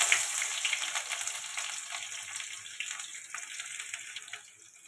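Bay leaf, five-spice seeds and onion sizzle in hot oil while tempering dal, a steady close frying hiss that slowly eases off, with no talking.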